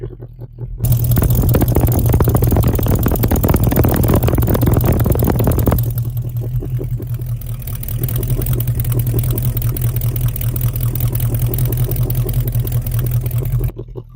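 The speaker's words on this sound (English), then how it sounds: "Sounding healthy and strong from the 351 Cobra Jet V8." The 351 Cobra Jet V8 exhaust of a 1973 Ford Mustang Mach 1 SportsRoof rumbles steadily at idle, loud and close, with a deep constant drone that eases slightly partway through.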